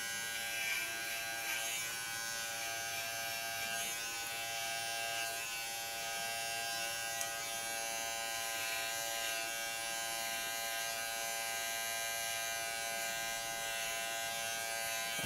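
A big electric hair clipper buzzes steadily while cutting hair for a punk-style haircut, a close, constant motor drone with slight changes in pitch as it moves through the hair.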